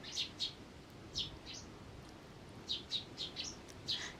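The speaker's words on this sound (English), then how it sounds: "there are birds around me chirping" Small birds chirp outdoors in short, high tweets, scattered and in little clusters over faint background ambience, moderately distant.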